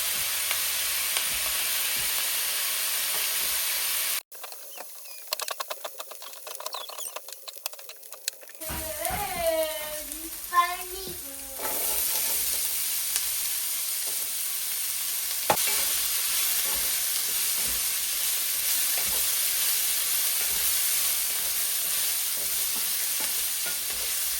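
Bacon frying in a pan sizzles with a steady hiss, interrupted midway by stirring, clinks and brief scraping before the constant crackling sizzle resumes and continues alone.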